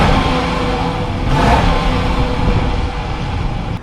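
A 2018 Jeep Grand Cherokee's 5.7 HEMI V8 with an upgraded intake revs up briefly, a loud, close, deep engine roar that swells and then settles back to idle.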